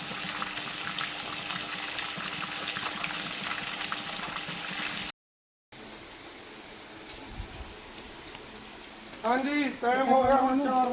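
Water gushing from a borewell pump on a farm as a steady, dense rushing roar. After a brief cut it continues more quietly, and someone speaks near the end.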